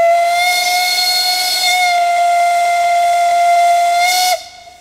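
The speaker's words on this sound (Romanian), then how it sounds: "cel mai fascinant moment este atât fluieratul trenului la plecare" Steam whistle of the narrow-gauge Mocănița train at departure, one loud sustained tonal blast with harmonics and a breathy hiss that holds for over four seconds, then cuts off, leaving quieter steam hiss.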